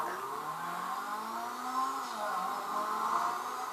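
A synthetic engine tone rising steadily in pitch as a car speeds up in GTA 5, fairly quiet, with a sustained whine throughout.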